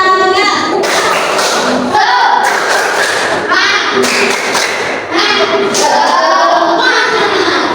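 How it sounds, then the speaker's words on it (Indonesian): A group of children does a spirit clap, clapping and jumping together in bursts of claps and thuds. Loud, close chanting voices run over the claps, with a brief pause near the middle. "Kita coba tepuk semangat ya."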